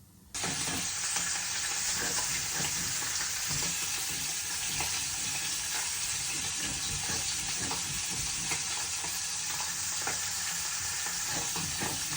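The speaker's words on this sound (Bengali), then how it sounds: "তেল দিয়ে দিছি আর দিয়ে দিলাম পেঁয়াজ কুচি" Chopped onion frying in hot oil, a loud, dense, continuous sizzle with faint crackles and stirring, close up and without any talking.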